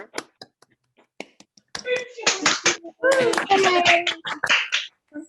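Attendees of an online MFA writing reading unmute to applaud over a video call, starting with a few sparse claps and then building into bursts of clapping and cheering voices.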